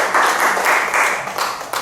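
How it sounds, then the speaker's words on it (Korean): Congregation clapping during a church service for a middle-school group, dense and steady at first, then thinning and tapering off toward the end. "우리 하나님께 감사의 박수 올려드리겠습니다"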